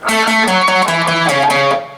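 A distorted electric guitar plays a short, repeating blues riff of paired notes, loud and close, with no talking.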